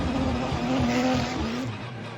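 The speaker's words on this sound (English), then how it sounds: "with a massive burnout as he exits the pit lane, once again on cold tires in his '77 Porsche" A 1977 Porsche race car on cold tires, doing a big burnout as it leaves pit lane at Laguna Seca. Tire squeal sounds as a sustained tonal screech over a rumbling engine, close and loud, then it fades slightly.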